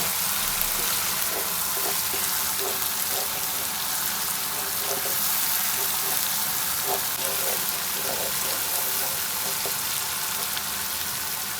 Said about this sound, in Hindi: अच्छी तरह 2 से 3 मिनट तक भून लेते हैं।